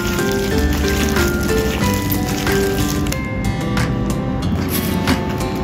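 Enoki mushrooms are rinsed under running water, a loud, continuous splashing hiss with soft squishing as the clusters are handled, close and steady throughout.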